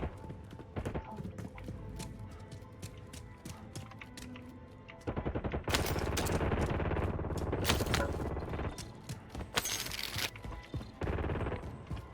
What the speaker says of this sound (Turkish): silah sesleri var.